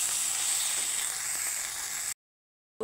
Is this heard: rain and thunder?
no